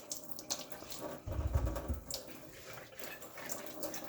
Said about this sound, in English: we're just going to start this off with giving our cucumbers a nice wash